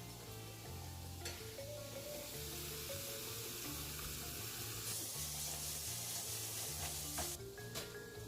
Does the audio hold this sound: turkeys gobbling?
no